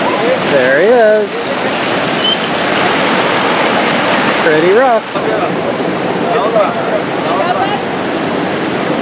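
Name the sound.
water splashing as a backhoe drives through it, video game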